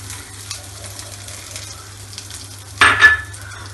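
Urad dal and chana dal hitting a spoonful of hot oil in a pan give a brief, loud sizzling burst near the end, after a quiet stretch with a low steady hum.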